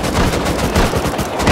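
Rapid burst of AK rifle fire in the survival game Rust, loud, close and continuous with dense repeated shots and no talking.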